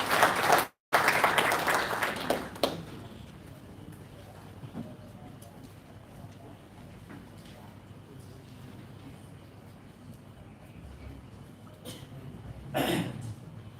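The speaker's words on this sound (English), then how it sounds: "A round of applause for him, please." An audience applauds a speaker walking onto a stage at a World Population Day event, a burst of clapping that fades into quieter room noise with a cough or two and a brief later swell.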